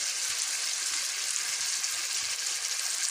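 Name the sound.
chicken and onion frying in half a cup of oil in a wok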